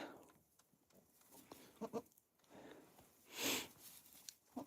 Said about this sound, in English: Brand new baby goats.